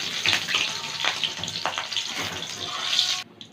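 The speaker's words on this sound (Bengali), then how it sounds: "ফোড়নটা ভেজে নিয়েছি" Dried red chillies, nigella seeds and green chillies sputtering in hot oil, a close, busy crackling sizzle with small pops that cuts off abruptly near the end.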